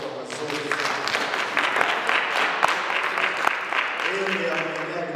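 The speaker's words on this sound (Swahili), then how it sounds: "Chapia Yesu makofi makubwa mazuri." A church congregation applauds during a praise service, a loud, steady wash of many hands clapping for several seconds, with a voice speaking over the end.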